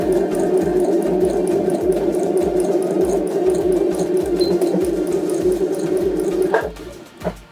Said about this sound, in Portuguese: eu vou terminar minha costura aqui passando no primeira costura e dando um retrocesso para reforçar a costura.